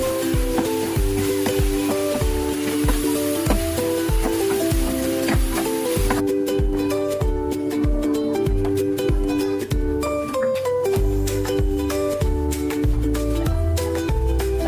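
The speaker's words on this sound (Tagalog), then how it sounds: "Susunod natin ang pasta to. Italian style. Mix na natin." Pasta for baked macaroni is mixed into an Italian-style sauce in a pan, giving a steady sizzle and stirring sounds that continue under prominent background music.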